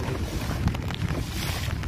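Strong storm wind gusting over a river in heavy rain, a steady roaring rush of air and water heard up close, with no voices.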